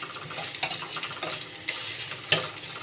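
Onions frying in a pan until brown for breakfast pasta give a soft, steady sizzle, broken by a few scraping stirs and light utensil clicks against the pan.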